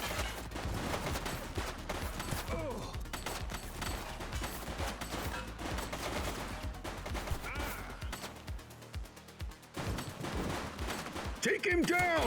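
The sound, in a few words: gunfire in The Precinct video game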